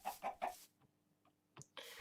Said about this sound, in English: Oh, I found chickens and eggs.